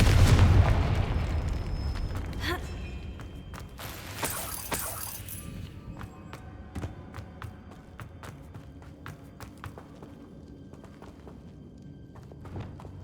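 Confringo spell explosion in the video game Hogwarts Legacy: a loud booming blast at the start, then further crackling impacts and a run of light clopping steps fading into quieter game ambience.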